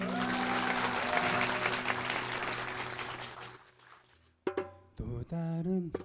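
A concert audience applauding in a hall, steady loud clapping over sustained music that fades out, then a sung melody begins alone.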